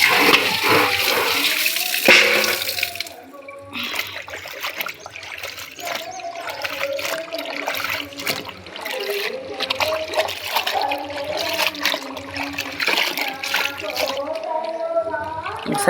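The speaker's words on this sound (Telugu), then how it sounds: "రెండో బకెట్ కూడా వాటర్ పట్టుకొని ఇంకోసారి వాష్ చేసుకున్నాను గోంగూర." Water pours and splashes steadily into a bucket as gongura leaves are washed, with continuous gushing and trickling close by and brief talk at times.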